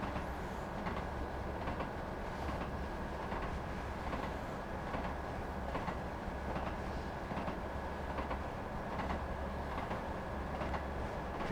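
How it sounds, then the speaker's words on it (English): Train wheels in Train Sim World 6 on the Northern Trans Pennine route, with a steady rolling rumble and a regular clickety-clack that repeats through the whole stretch, fairly quiet, with no talk. "Clickety-clack, clickety-clack, clickety-clack"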